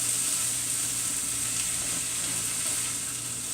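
Green beans sauté in a pan with a continuous close, bright sizzle and faint scraping as they are stirred, steady and unbroken with no voices.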